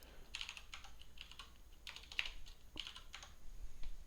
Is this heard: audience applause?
no